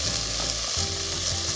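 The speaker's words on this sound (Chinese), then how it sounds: "所以我们再煎了一面就好了" Meat pan-frying in a pan sizzles steadily while being stirred and turned, with scraping stir sounds over a continuous close sizzle.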